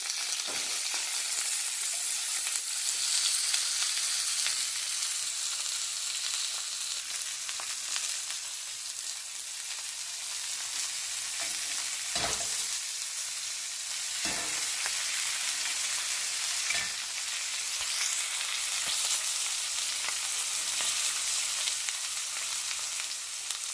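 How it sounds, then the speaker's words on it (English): A spinalis steak, the ribeye cap, sears in a Lodge cast iron pan with a loud, continuous hiss of hot fat and a few scattered sharp pops and scrapes. "Sear the other side and it'll be brand new for you."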